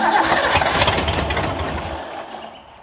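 An engine with a modified fuel system catches and runs out of gear, a loud, broad rumbling roar close by that fades and thins toward the end as it stumbles.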